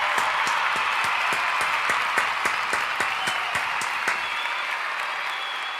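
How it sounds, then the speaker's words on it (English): A studio audience claps in a steady burst of applause with sharp individual claps standing out, fading slightly toward the end. "Havili, another round of applause."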